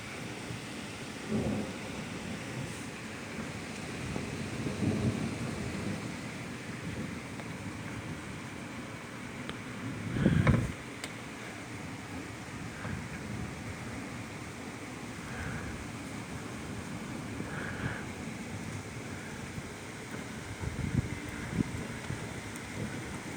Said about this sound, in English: Thunder still rolling around up there from that last piece of lightning.